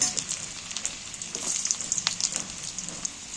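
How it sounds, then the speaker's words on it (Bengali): Sliced round potatoes fry in hot oil left from frying fish roe, giving a steady close sizzle with crackling pops throughout and no talk. "আলুগুলো ভালো করে নাড়াচাড়া করে ভালো করে ভেজে নেব"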